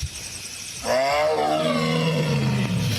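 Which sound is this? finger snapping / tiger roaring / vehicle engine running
tiger roaring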